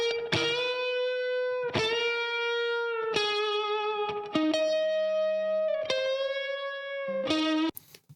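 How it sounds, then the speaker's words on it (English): Sustained electric guitar chords ring out one after another with a wet, spacious spring reverb tail, each strum struck sharply and left to sustain. "you can hear there's probably, I would say, a spring reverb on that"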